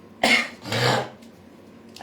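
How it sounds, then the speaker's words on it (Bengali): A singer coughs twice during a live cover performance, two close, harsh bursts in quick succession followed by quiet room tone. "এমন গানটা করার আগে কাশিটা হলো তো"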